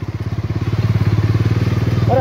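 A motorcycle labouring along a muddy track, its engine thumping in a fast, steady pulsing rhythm, loud and close, rising slightly as it strains forward.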